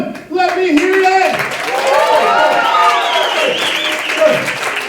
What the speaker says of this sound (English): You guys start clapping.